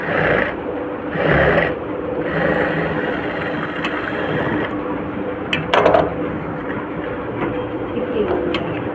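A sewing machine stitches cotton cloth onto the main fabric of a garment, a steady mechanical whir that runs throughout at close range, with a brief clatter near the middle.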